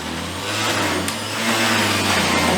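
A juicer motor grinding through a whole apple: loud, close, continuous mechanical whine and hum that strains and swells slightly toward the end, with no voices.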